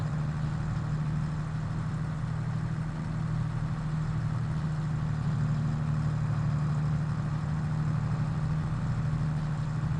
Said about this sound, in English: Don't mind this Landini tractor, it's doing a pretty good job.